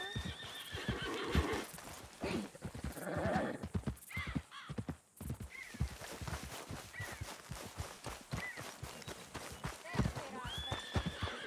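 A horse in the Red Dead Redemption 2 video game whinnies and its hooves clip-clop in a steady walking rhythm, close by, with voices talking over it.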